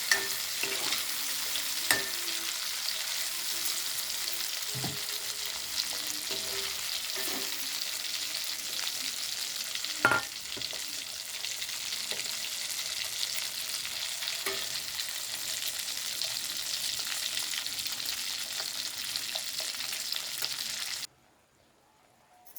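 Eggs frying in oil until golden for an egg biryani, a steady close sizzle with scattered pops and utensil taps, running continuously before cutting out near the end.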